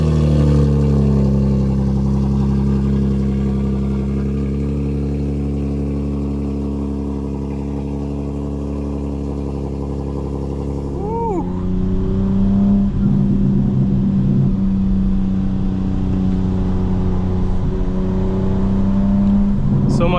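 A 2025 BMW M4 Competition xDrive in a driving game rumbles loudly at a steady idle, then revs up with a sharp rising whine and settles into a strong, continuous engine drone, close and without talk.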